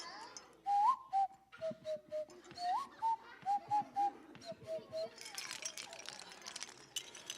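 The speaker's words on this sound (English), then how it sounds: "a strange whistle from Africa called the nose whistle" An African nose whistle played with the nose gives a string of short, clear piping notes in a hesitant melody, close and fairly quiet, with some rustling afterward.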